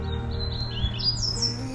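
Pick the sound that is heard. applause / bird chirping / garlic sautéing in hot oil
bird chirping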